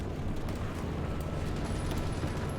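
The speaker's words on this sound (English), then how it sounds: "Now we're getting naval bombardment." Naval bombardment in the Hearts of Iron IV video game: a continuous, heavy rumble of explosions, dense low booming with scattered bursts throughout, loud and sustained with no pauses.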